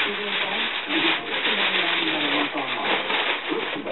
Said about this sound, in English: cover it with another sheet of aluminum foil.